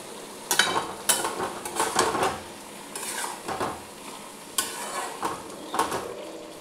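Curry of lentil dumplings and cauliflower stalks is stirred in a pot, a series of loud spatula scrapes and metallic clanks at irregular intervals over a low simmering sizzle.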